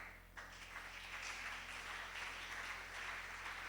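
Applause from a church congregation during a sermon: faint, steady clapping from a crowd that starts abruptly and continues evenly.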